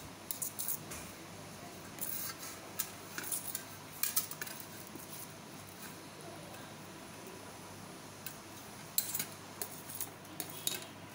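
A knife scrapes cut mathri dough off a surface onto a plate, giving sparse, faint metallic scrapes and clinks over steady background hiss.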